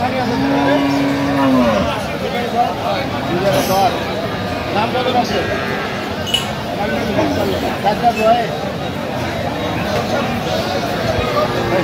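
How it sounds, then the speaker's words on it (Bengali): At a busy cattle market, a bull calf lets out a long, low moo near the start, then the lowing fades under steady crowd chatter and people talking nearby. "ষাঁড় বাচ্চা 4 দাঁত বয়স।"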